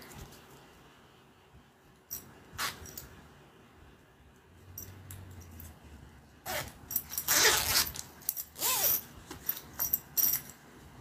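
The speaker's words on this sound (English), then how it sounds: "Let me add my zipper first." Zipper handled during sewing of a fabric panel: scattered zipping rasps and rustles, quiet at first, then denser and louder bursts of scraping and jangling toward the end, no talking.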